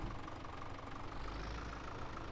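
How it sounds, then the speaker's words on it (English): Open-cab tractor engine idling steadily in Farming Simulator 17, a constant low rumble with a slight knocking texture, loud and close with no talk over it. "It's a nice open cab tractor here."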